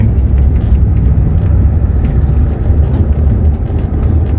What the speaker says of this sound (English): Sounds like the motor's running and nothing's happening.